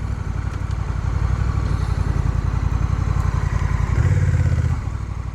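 A Honda Rebel 1100 with its stock Euro 5 exhaust idles with a steady, deep, throbbing rumble, close and continuous, rising slightly in revs near the end.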